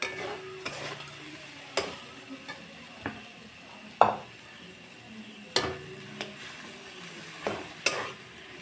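Fish and boiled potato are stirred in a pan, with a quiet frying sizzle under repeated sharp scrapes and knocks of the spoon against the pan at irregular intervals.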